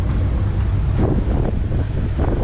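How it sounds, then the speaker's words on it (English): Strong wind buffets the microphone in a loud, continuous low roar with gusty swells, close and unbroken. "Boy, is it windy."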